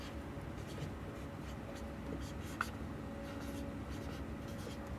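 A pen scratches across paper in close, soft strokes while working through a Class 10 polynomials exercise, faint continuous writing with a small tap partway through and no voice.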